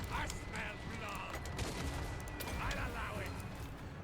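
Gunfire from units shooting in a Total War battle against Vampire Coast forces, a dense, steady crackle of many shots running throughout, with battle noise and a voice talking underneath.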